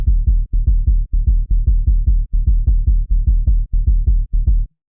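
A deep synthetic sub-bass made in Serum 2 plays in a steady rhythmic pattern of short, evenly spaced pulses with warm low-mid body, loud and isolated, ending abruptly.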